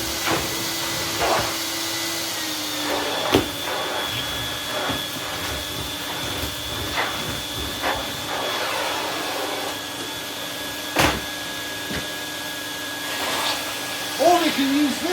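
A 1990s Vax Rapide 5150 upright vacuum cleaner runs with a steady whooshing drone, broken by occasional sharp knocks and bumps as it is pushed over the floor.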